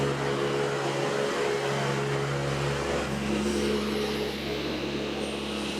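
A car engine in a garage idles steadily after starting, a continuous low mechanical hum with tonal harmonics running loud and close throughout, without talk.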